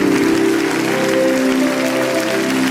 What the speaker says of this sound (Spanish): que se escuche ese aplauso. Que tiemble River, que sea el mayor aplauso de la historia.